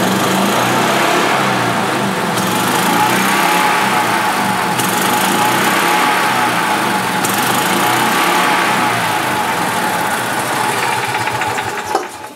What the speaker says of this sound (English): there you can hear the rev limiter kicking in